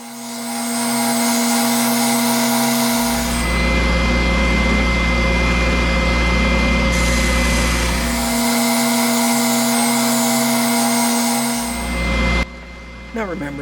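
Bauer oscillating edge belt and spindle sander running loudly with a steady motor whine and hum, deepening into a heavier grinding drone while stock is pressed against it, then easing before it shuts off.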